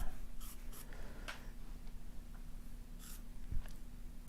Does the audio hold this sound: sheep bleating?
no